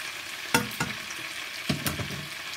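Marinated chicken feet for adobo sizzle and fry steadily in a pan, broken by a few sharp stirring scrapes near the start and again toward the end.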